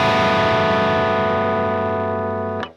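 A single major 7 sus2 chord strummed on a distorted electric guitar with effects, ringing out steadily for over two seconds before being abruptly cut off; no voices.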